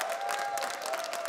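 A festival audience claps in a brief, dense burst of applause, even and sustained, with a faint hint of crowd noise.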